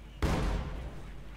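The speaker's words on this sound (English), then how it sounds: "Quick barrage there, in the hopes of annihilating the Grenadiers" A single booming artillery explosion from a barrage in the video game Company of Heroes 2, a sudden heavy blast that rumbles and fades over about a second.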